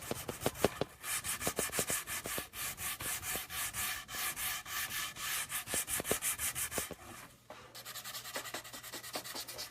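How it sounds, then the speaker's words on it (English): Steady back-and-forth sanding of wood, rapid rhythmic rasping strokes close up, with a brief pause and lighter rubbing near the end. "trying to get it in the right position to keep sanding"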